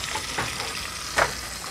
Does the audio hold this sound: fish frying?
yes